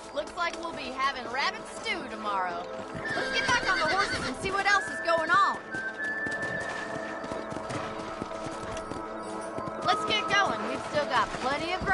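Horses from the video game Red Dead Redemption, with hooves clopping and neighs and whinnies over a busy game soundscape and a voice talking throughout.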